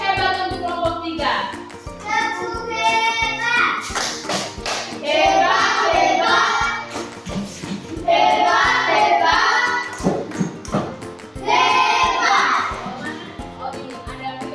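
A classroom of children does a rhythmic clapping cheer for a group that has just presented on aloe vera plants, loud and patterned, mixed with children's chanting voices and a teacher speaking.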